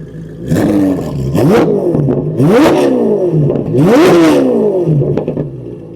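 A C8 Corvette Z06 fitted with Kooks headers revs on a dyno in three rising blips. Each blip climbs to a sharp, loud howl and falls back to a rumbling idle. The engine sounds close and plays alone.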